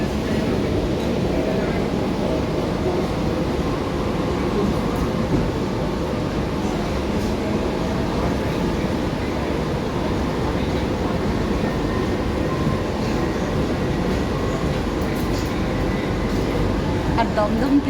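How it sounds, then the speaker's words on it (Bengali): A Kolkata metro train pulls out of Noapara station on the open, above-ground stretch toward Dakshineswar, giving a steady, continuous rumble that stays even and fairly loud throughout. "এই যে আর একটি মেট্রো ওইদিকে চলে গেল,"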